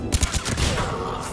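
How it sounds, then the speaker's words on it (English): A weapon being fired in Mass Effect 3, dense rapid shots merging into a loud, continuous roar of gunfire that stays close and heavy. "I'm gonna fire this directly through there."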